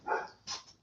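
A dog gives two short, faint barks in quick succession, heard at a distance in an otherwise quiet room.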